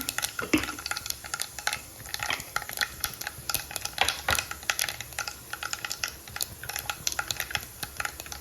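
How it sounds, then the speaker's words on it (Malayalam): Mustard seeds and cumin crackle in hot oil during the tempering for a garlic pickle, dense irregular sharp pops and clicks over a faint sizzle, fairly quiet and close, no talking. "കടുക് പൊട്ടി വരുന്നുണ്ട് നമുക്ക് അതിൻ്റെ അകത്തോട്ട് ഒരു അര ടീസ്പൂൺ നല്ല ജീരകം ഇട്ട് കൊടുക്കാം"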